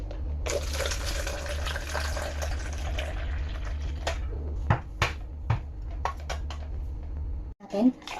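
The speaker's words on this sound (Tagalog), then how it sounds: "So, i-drain na po natin yung ating fruit cocktail." Canned fruit cocktail being drained of its syrup for a macapuno salad, a steady pouring, gushing liquid run for most of the stretch, then a few light clinks and knocks of a container near the end.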